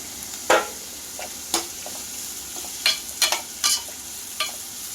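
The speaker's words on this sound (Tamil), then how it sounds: "வெங்காயம் நல்லா வதங்கட்டும்." Onions sauté in a pan for an egg gravy, with a low background sizzle broken by several sharp stirring scrapes and clinks spaced irregularly across the clip.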